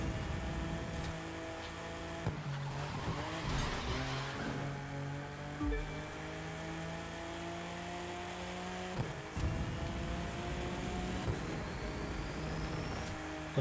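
Racing car in a video game with eight gears, heard as a continuous engine drone that shifts pitch as it changes gear, broken by a few brief skids and knocks, at moderate loudness with no speech.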